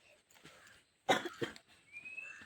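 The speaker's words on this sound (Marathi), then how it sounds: "खोकलो येता" A single sharp cough bursts out close by, followed by a smaller second cough, with quiet outdoor background before and after.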